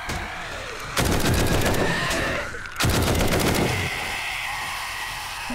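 Tactical rifle fire aimed at a spider zombie in the survival game 7 Days to Die: two loud bursts of rapid automatic shots, the first about a second long, a short pause, then a second longer burst, with no talking.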